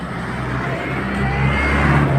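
A car engine accelerates from inside the vehicle, a low steady drone rising gradually in pitch and loudness over a couple of seconds, close and alone with no talk.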